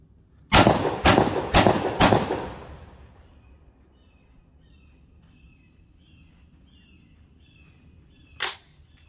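A Sipahi BS-12 semi-automatic bullpup 12-gauge shotgun fires four loud, booming shots in quick even succession outdoors. The echoes fade, then a single metallic clack follows some seconds later.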